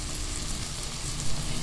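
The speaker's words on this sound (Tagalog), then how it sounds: "Igisa ito hanggang sa maging hot cook." Squid sautéing in a hot pan for adobo in coconut milk, a steady close sizzle and crackle with no break and no voices.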